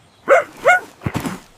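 A small dog gives two close yips followed by a rougher burst of short barks, fairly near and alone, with no talking over it.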